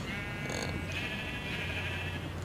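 A Minecraft sheep bleats in the game, a wavering nasal baa lasting over a second and then trailing into a second softer bleat, over low background rumble.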